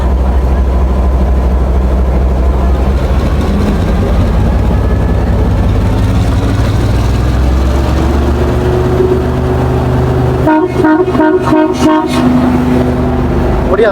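A train on the Colombo to Batticaloa railway in Sri Lanka rumbles along loudly with a steady low drone, joined late by a series of short rhythmic horn toots near the end.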